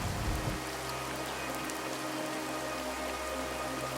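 Heavy rain pours in a cartoon storm over a collapsing village house, a loud, unbroken wash of falling water with no voices.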